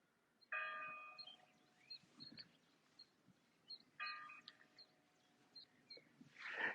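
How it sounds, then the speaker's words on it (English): A church bell heard from a hot-air balloon over the Netherlands rings twice, distant and faint, each strike a resonant ding that slowly fades, with scattered small knocks and a breathy burst at the end. "Oh, there's another church bell."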